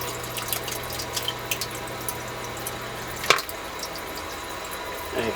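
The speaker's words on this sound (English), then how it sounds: "And you can see how much water there's pumped out." A sump pump discharges water in a home basement, producing a steady, faint trickling flow with a single sharp knock partway through and no voices.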